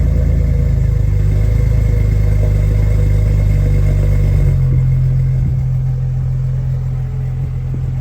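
A 2000 Jeep Wrangler Sahara engine idles steadily with a deep, throaty exhaust rumble, loud and close, settling slightly lower partway through.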